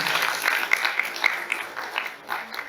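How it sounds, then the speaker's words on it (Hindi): Brief applause from an audience at a youth parliament session, a short patter of clapping that swells and fades over a few seconds. "आप लोग जोरदार तालियों के साथ स्वागत करिएगा, जोरदार तालियां बजा दीजिए"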